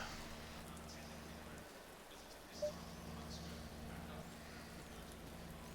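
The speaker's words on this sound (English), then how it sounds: "It's a fairly moderate rain here." Moderate rain falls in a steady, even hiss across the whole stretch, a continuous wash of drops over a low constant rumble, with one brief faint tick partway through.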